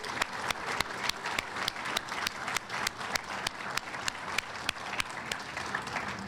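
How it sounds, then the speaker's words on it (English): Audience applause at an airline press conference, a steady wash of clapping from a moderately sized crowd with a few sharper nearby claps standing out, heard at a moderate distance with no talking. "please, just give them a round of applause"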